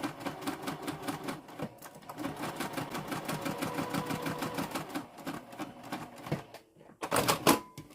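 Sewing machine basting zipper tape onto fabric, a rapid steady needle rhythm running nearly continuously at close range, with a brief pause near the end before a louder final burst.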